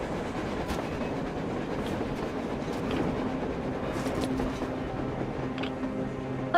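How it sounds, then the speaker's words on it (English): A train rolls past on the surface in the video game Metro Exodus, a steady low rumbling clatter of wheels and cars that holds at an even level for several seconds with no talk. "A train! A damn train on the surface!"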